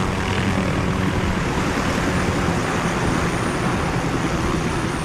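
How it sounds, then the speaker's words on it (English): Helicopters closing in during a Call of Duty mission, a steady, loud rotor and engine drone with a broad rumbling roar that holds evenly throughout, no voices over it. "Barkov is sending in helicopters."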